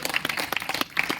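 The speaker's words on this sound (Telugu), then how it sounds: "చప్పట్లో" Scattered handclaps from a church congregation, a short uneven burst of clapping at moderate volume with no voices over it.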